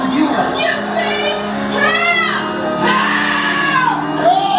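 Loud, strained shouts and yells with rising and falling pitch from a performer crying out for help in a live stage show at an amusement park, echoing over a busy background.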